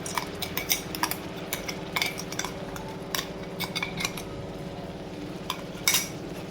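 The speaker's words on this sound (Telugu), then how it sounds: "టమాటా పేస్ట్ కూడా మొత్తం అంతా కలుపుకోండి" A spoon scrapes and stirs tomato paste through thick egg dum biryani masala in a pot, with irregular clinks and scrapes over a low background hum and faint sizzle, no talking.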